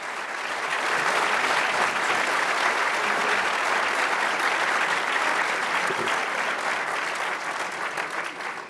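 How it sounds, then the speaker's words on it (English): A convention audience applauds a lawyers' panel, sustained dense clapping that swells quickly and holds steady for several seconds before easing slightly, broad and crowded in a large hall. "So please give them a round of applause"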